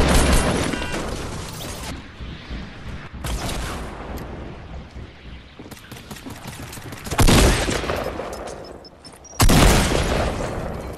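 Fortnite gunfire cracks loudly and repeatedly in bursts of closely spaced shots, with heavier booming blasts at intervals and a constant rumble of game noise underneath.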